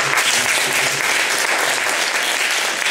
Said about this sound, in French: Je vais l'applaudir.